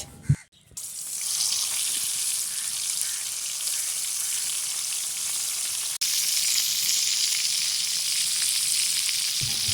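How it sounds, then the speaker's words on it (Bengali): Rohu and catla fish, rubbed with salt and turmeric, fry in hot oil in a wok, producing a loud, continuous sizzle throughout with a brief clatter at the start and no speech. "উল্টে পাল্টে সবগুলো মাছ ভেজে নিব"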